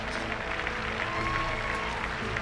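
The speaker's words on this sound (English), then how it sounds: "Charles Howell gets a cheer of appreciation from the crowd" A golf gallery at the 2005 Buick Invitational gives a steady, fairly close round of applause and cheering, a dense even patter of clapping that lasts throughout with no clear talk.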